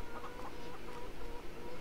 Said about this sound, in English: As you can see, the chickens.